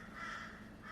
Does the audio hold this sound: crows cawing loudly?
yes